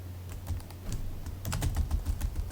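Rapid typing on a computer keyboard, a steady run of close, crisp key clicks with irregular rhythm, heavier bursts in the second half, over a low steady hum.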